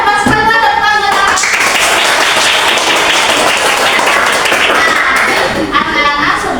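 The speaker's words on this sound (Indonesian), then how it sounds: "Oh, hebat sekali, tepuk tangan." Children in an Islamic religious education class clap together for several seconds, a loud, dense burst of hand clapping framed by a teacher's and pupils' voices before and after.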